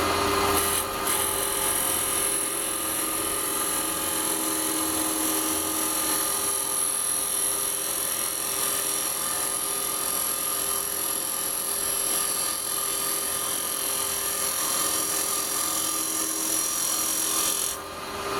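A carbide cutter scrapes steadily across a small wooden bowl spinning on a lathe, a continuous close grinding hiss with a high whine over the motor, unbroken until a sharp change at the very end.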